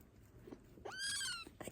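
A young kitten gives a drawn-out, rising squealing meow, close and fairly faint, between soft quieter sounds in a calm indoor space.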